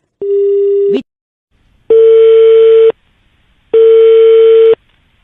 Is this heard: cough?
no